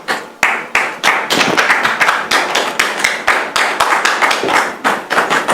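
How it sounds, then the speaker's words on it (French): A television studio audience claps in rhythmic unison, sharp, loud, evenly spaced beats repeating steadily throughout with no talk over them. "sous vos applaudissements"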